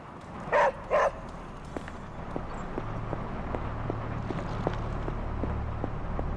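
Two quick, close barks from Charlie, a dog in the video game Marvel's Midnight Suns, ring out over a low ambient hum, followed by soft, evenly spaced clicking footsteps.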